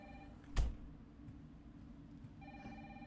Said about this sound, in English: Oh, it was a phone the whole time.